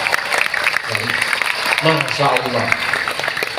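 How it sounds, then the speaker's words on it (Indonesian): An audience at an Islamic boarding school claps in a brief burst of applause, moderately loud, while a voice speaks over it. "Beri tepuk tangan."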